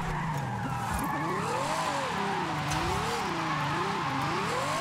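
Ferrari driven in Forza Horizon 5, its engine note rising and falling in wavering tones with continuous tire squeal and skidding, loud and steady throughout with no talk.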